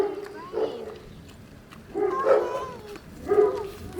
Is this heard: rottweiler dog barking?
yes